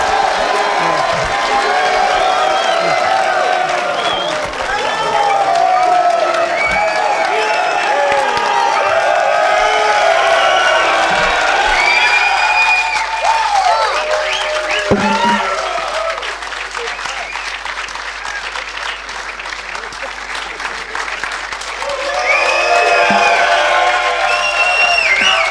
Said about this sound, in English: I think you might all want to give a little round of applause for a couple of guests.